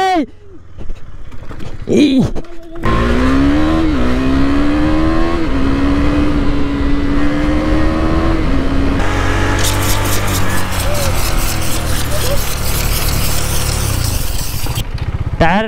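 A KTM Duke 390 motorcycle is held at full throttle for a burnout, a loud, sustained high-rev engine scream that climbs, holds steady and turns rougher and noisier toward the end.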